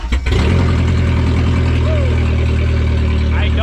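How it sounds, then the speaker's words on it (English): A 1.8T-swapped VW Golf 3 cranks briefly and fires up, then settles into a loud, steady, rumbling run close by, the exhaust droning continuously with a faint high whine above it. "now I want to start the car and let it run for a minute and see if it'll get up to temp"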